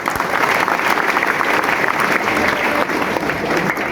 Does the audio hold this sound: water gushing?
no